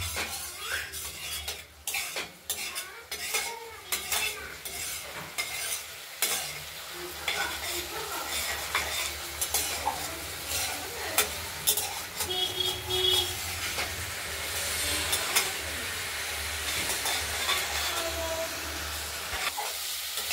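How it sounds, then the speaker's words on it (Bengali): Masala spice paste sizzles and fries in oil in a pan while a utensil stirs and scrapes repeatedly, with clinks of metal on the pot, close and steady, for a rohu fish curry with potato and tomato. "মশলাটা আমাদের কষানো হয়ে গেছে, তেলও বেরিয়ে গেছে।"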